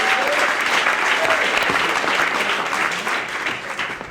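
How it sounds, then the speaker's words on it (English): Comedy club audience applauding a comedian onto the stage, loud sustained clapping from a full crowd that continues throughout and fades slightly at the end. "start clapping it up for Mark Ziemann"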